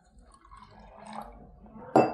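Water is poured into a steel pot while a leaf decoction is prepared, with soft trickling that ends in a brief, louder splash near the end.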